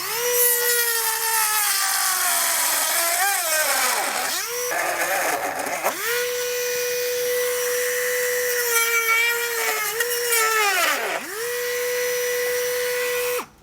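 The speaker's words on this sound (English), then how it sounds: "So this being kind of hard plastic, I'm going to use a Dremel tool to kind of speed things up." A Dremel rotary tool cuts hard plastic while a base plate is fitted to a 2022 Ford Escape. Its close, steady high whine runs throughout, dipping sharply in pitch twice as the bit bogs under load, then recovering.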